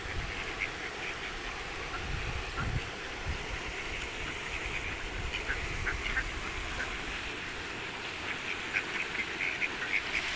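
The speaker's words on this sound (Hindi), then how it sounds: "ये सारी जो बतखें हैं ना वो सारी इकट्ठी रहती हैं" A flock of ducks quacks in nasal bursts of varying distance over a busy outdoor background, the calls overlapping irregularly throughout.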